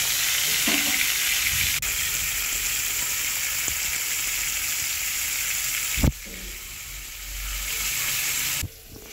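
Rohu fish pieces fry in hot oil with a constant loud sizzle, broken by a few sharp clinks and a brief drop in the hiss as the fish is turned or moved.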